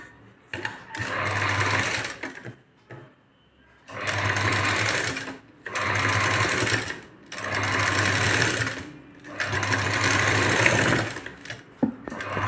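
A domestic sewing machine stitches the border of a Paithani saree blouse in five steady bursts of fast whirring, each a couple of seconds long, separated by short pauses, loud and close with no talk.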